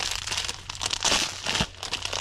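Plastic packaging from an Amazon package crinkling up close, a busy run of crackling and rustling as it's handled inside a car, with louder bursts near the middle.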